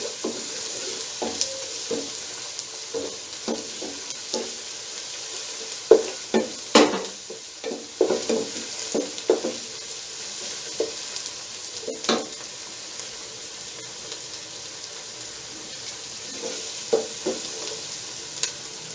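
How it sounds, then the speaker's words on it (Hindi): Matar pulao cooking in a pan: a steady sizzle of frying runs throughout, broken by repeated scrapes and clacks of stirring, with no talking. "इसको हम जस्ट 30 सेकंड इसमें भूनेंगे, ज्यादा देर हमने इसमें नहीं करना इसको।"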